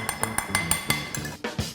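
Spoon or whisk stirring corn fritter batter in a bowl, giving a run of quick, close clinks and scrapes in an uneven rhythm, fairly loud against a quiet background.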